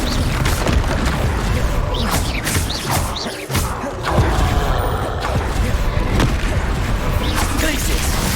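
Blasting spell explosions in the Hogwarts Legacy video game, heavy booms and crashes going off repeatedly amid a dense, busy wash of combat effects, loud throughout with no pause in the action.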